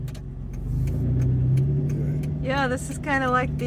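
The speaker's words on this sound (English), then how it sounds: "Here comes another wrecked car on a trailer." A wrecked car carried on a trailer passes by on a street, a loud low vehicle rumble lasting throughout, with a person talking over it near the end.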